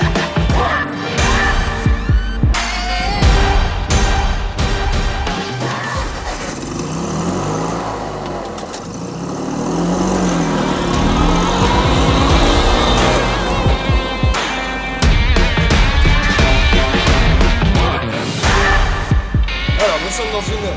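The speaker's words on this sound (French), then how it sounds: "aujourd'hui on vous emmène faire un tour dessus en Fiat 500" A Fiat Nuova 500 drives on the Lingotto rooftop test track in Turin, its small engine throbbing and revving under ongoing talk inside the car.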